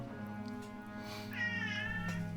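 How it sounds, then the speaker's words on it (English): A cat in the video game Daggerfall Unity gives a drawn-out meow over a steady droning game backdrop, moderately loud and close, with no talking. "Oh god, a cat, no! Cat, no! Suddenly a cat approaches."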